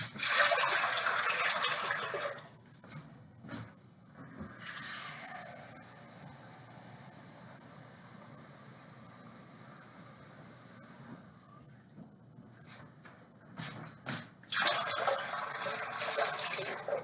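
Water is poured into a tray inside an oven to make steam for baking baguettes, with a rushing pour at the start, quieter trickling and handling noises in the middle, then another burst of pouring near the end.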